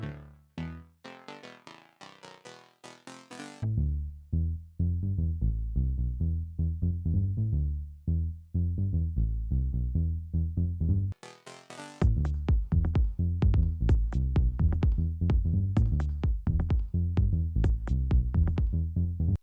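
Two layered Serum synth basses pump together, sidechained to a kick, in a track: a sustained melodic low line with rhythmic ducking, joined at the start and later by bright plucked upper notes, loud and continuous with a brief gap near eleven seconds.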